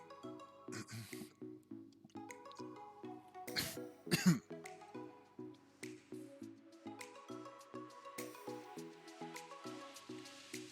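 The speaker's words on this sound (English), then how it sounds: "I don't want you guys to have to hear my cough so loud." A few abrupt, harsh coughs burst out over a busy background of clicking and tapping sounds, close and fairly loud.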